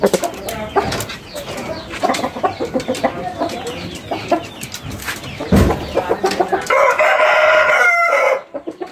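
A Bangkok rooster, a gamecock breed, clucks and calls repeatedly in close, busy bursts, then lets out a long, loud crow near the end amid other farmyard sounds.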